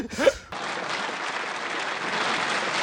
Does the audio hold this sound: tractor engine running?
no